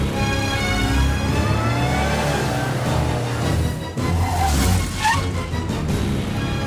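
A car engine runs steadily and close, a continuous rumble that swells slightly toward the end, with no talk over it.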